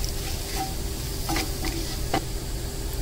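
Bay leaf and a dried red chili roast in a hot pan, giving a steady soft sizzle with a few scraping stirs of a spoon against the metal, close and without talk.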